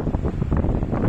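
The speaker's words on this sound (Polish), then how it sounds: "Trochę wiatr jest taki ryzykowny," Wind in the Durmitor mountains buffets the microphone in a loud, gusty low roar for just over a second, with no voices.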